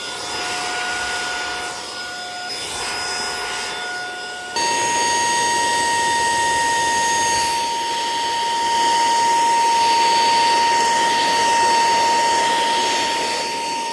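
A Saker mini handheld vacuum cleaner runs steadily on carpet, a loud continuous whirring whine with a high motor tone that steps up in pitch and intensity partway through, alone with no talking.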